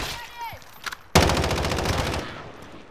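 Loud burst of video game gunfire erupts about a second in and rattles on as rapid automatic fire to the end, preceded by faint game sounds and a short whistling tone.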